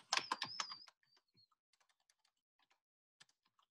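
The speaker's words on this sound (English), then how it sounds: "So let me just type the ones that are not on here." Keys clatter in a quick burst of typing on a computer keyboard, then fall to sparse, faint taps with quiet gaps between them.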